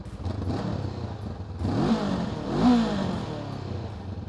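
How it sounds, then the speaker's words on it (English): A 2025 Honda NX500 twin-cylinder motorcycle starts up nearby, a quiet engine idle that swells into two short revs before settling back. "So it is quite quiet on startup, which is not a bad thing for your neighbours when you're getting up early in the morning"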